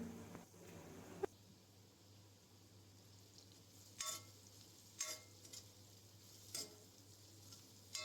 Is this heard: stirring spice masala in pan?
yes